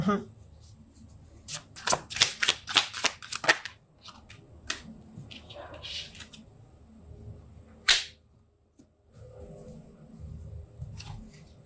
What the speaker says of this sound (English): I'm going to pull some more cards and see what else the story has to say